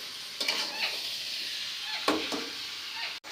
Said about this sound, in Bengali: চিকেনটাকে একটু খুব ভালোভাবে ভাজা করে নেব